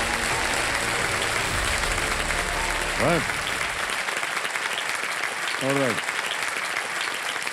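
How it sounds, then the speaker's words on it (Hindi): A TV game show studio audience applauds in a dense, sustained wash of clapping while someone speaks briefly over it. "ताली बजाते हैं आपके लिए।"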